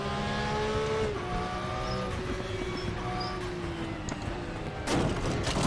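Porsche Cup race car in the sim racing game RaceRoom, a high-revving engine droning steadily with gear shifts and falling pitch, close and loud, ending in a burst of tire and track noise.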